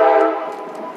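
A train sounds a loud horn blast that holds for about a second, rich and droning, then fades slightly as the train goes by.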